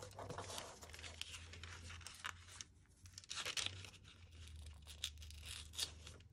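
Paper crinkles and tears in close, soft rustling bursts as an envelope is carefully pulled free from a piece of junk mail for a collage, with a low steady hum underneath.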